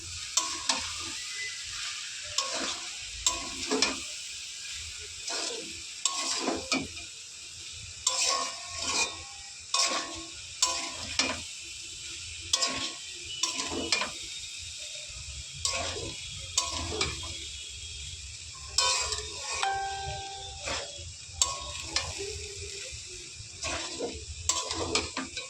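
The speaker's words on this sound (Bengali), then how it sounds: "এবার মিক্স করে নেওয়ার পালা।" Flattened rice for chira polau is stirred in a pan, with a spatula tapping and scraping in irregular bursts over a soft, continuous sizzle, close and fairly quiet throughout.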